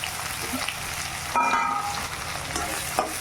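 Onions with garlic and green chili sauté in hot oil for a Tamil brinjal curry, giving a steady close sizzle with scraping stir strokes and a few sharper clinks.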